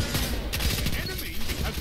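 Rapid gunfire from a Destiny 2 PvP match, dense and continuous bursts close up, mixed with game sounds and some voice throughout.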